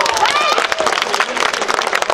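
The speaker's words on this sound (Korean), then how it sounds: "한번 젊은이들도 한번 박수 환호해 주시기 바랍니다" A crowd at the unveiling ceremony for statues of Presidents Syngman Rhee and Park Chung-hee claps and cheers loudly, brisk hand claps mixed with excited voices, close and continuous.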